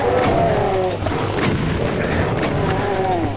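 Heavy booming shotgun blasts in the DOOM video game, several loud thick reports over about three seconds with a continuous dense roar of game noise beneath.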